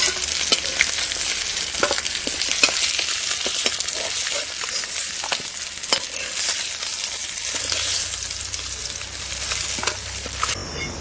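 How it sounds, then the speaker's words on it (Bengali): Fish pieces frying in hot oil during Santali village cooking: a loud, continuous close sizzle broken by scattered clicks and scrapes, with no one speaking. "মাছটা ভাজা হয়ে গেছে, এবারে তুলে নিই।"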